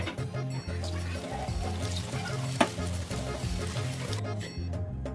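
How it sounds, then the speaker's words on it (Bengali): Coconut fritters fry slowly in oil over low-to-medium heat, a continuous close sizzle and bubbling with light stirring and one sharp tap midway. "লো টু মিডিয়ামে রেখে আস্তে আস্তে ভেজে নিতে হবে"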